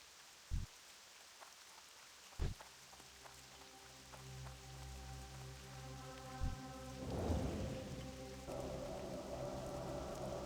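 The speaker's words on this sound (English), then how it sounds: "And now it's raining." Rain falls steadily in World of Warcraft Classic, with sharp cracks of thunder near the start and a deeper rolling rumble building later, a hushed game storm with no talk.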